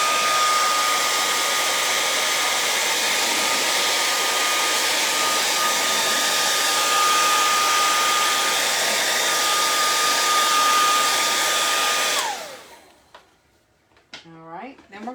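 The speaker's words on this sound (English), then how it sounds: "Let's dry him really good with the hairdryer." Hairdryer blowing on wet paint on a small craft pig figure, a loud continuous whooshing hum with a steady whine that runs about twelve seconds before switching off and winding down.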